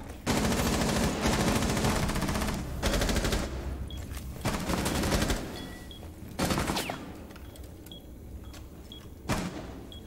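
Rapid automatic fire from a new gun in Rainbow Six Siege, loud sustained bursts broken by short gaps, with a couple of later shorter bursts and game effects.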